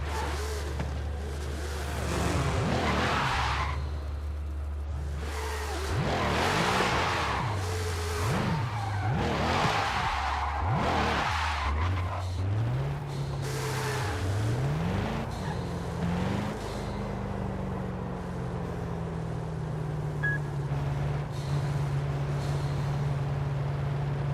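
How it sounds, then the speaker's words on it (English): A hybrid twin-turbo V8 car in Forza Horizon 5 drives hard, engine note rising and dropping through repeated gear shifts before settling into a long, steady high drone, with tire noise throughout. "this thing is a hybrid V8 twin turbo"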